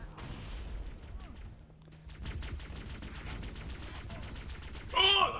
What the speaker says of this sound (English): Oh! Oh, you threw a grenade!